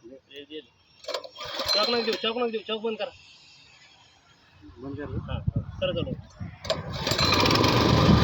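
A small power weeder engine sputters and catches, rising into a loud, rough revving roar near the end, with voices talking over the start, in a cotton field.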